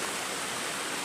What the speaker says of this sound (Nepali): नेचुरल साउन्डको झरनाको साउन्डको रमाइलो पनि लिँदैछौँ